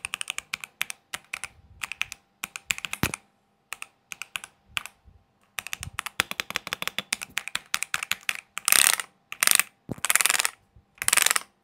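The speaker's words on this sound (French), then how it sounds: "ça fait un petit bruit de clavier trop haut de gamme" Typing on an Epomaker Magcore 87 keyboard with inductive switches: close, crisp clusters of keystrokes in rapid bursts with short pauses, some louder clacks near the end, no voices.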